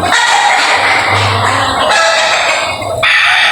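Fighting gamecocks, including a pure Gilmore and a grey, crow loudly and cluck up close, with several overlapping crows and clucks over steady farmyard noise.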